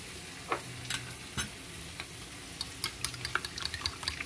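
Spinach frying in oil in a pan gives a faint, close sizzle, broken by soft clicks and crackles that grow quicker and sharper toward the end, with no voices.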